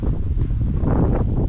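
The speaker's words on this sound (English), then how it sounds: "It's really windy today," Steady wind gusting across a creek bank on a cloudy day, a continuous low rumbling roar of wind buffeting the microphone with faint rustling, swelling slightly midway, no talking.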